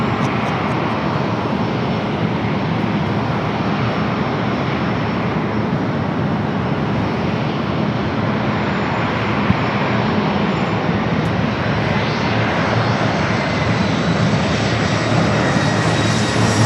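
An Airbus A350-900 jet at San Diego airport, a loud, steady broadband engine roar sustained throughout without a break, close and continuous.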